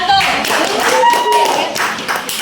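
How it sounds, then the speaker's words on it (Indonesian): Classroom applause for a student group after their presentation: a short burst of many hands clapping close by, mixed with voices chattering. "Beri aplaus dulu untuk kelompok 1"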